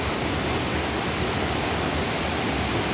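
A powerful glacier-fed waterfall in Norway roars in a dense, continuous rush of water, loud and close, with no other sounds.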